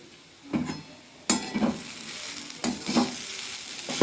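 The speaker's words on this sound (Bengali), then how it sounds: "আর একটু ঘি দিয়ে দিলাম ভাজার জন্য।" Grated carrot frying in ghee with crushed cardamom for carrot halwa, stirred in a pan: three loud bursts of sizzling and scraping spaced about a second apart, each fading back into a steady low hiss, close by with no talking.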